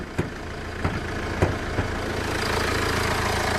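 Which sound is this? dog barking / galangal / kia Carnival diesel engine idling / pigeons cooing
kia Carnival diesel engine idling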